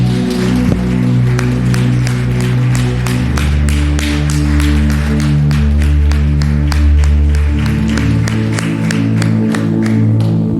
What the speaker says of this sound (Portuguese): Aplaudam o Senhor, meus irmãos